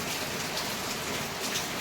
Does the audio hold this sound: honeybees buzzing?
no